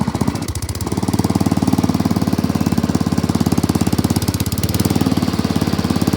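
An old tractor engine running in first gear, a steady, loud, close knocking chug with a fast even beat that barely changes throughout, with no voices.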